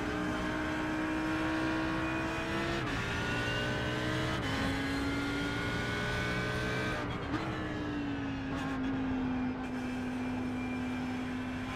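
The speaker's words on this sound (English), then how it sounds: "Let's let this GT3 runner through. I mean GTE runner through." A GTE race car passes during an iRacing sim race, its engine droning steadily at high revs with pitch shifts on gear changes, loud and continuous throughout without a break.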